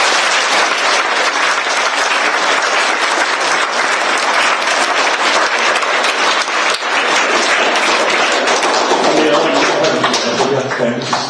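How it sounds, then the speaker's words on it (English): A school audience claps for Mrs. Kozlowski in a loud, dense, steady round of applause that carries on without a break, with no voices rising above it. "So can we give her a round of applause?"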